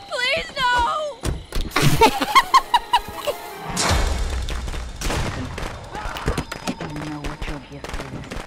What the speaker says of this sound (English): Oh, you wasted that shotgun shot!